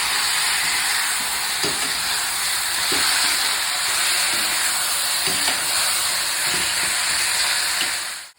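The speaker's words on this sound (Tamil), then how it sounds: "இந்த தக்காளியும் போட்டு ஒரு 2 நிமிஷம் நல்லா வதக்கணும்" Chopped tomatoes sauté in oil in a pan for a mung bean gravy, a constant loud hissing sizzle with faint occasional scrapes of stirring throughout, no talking.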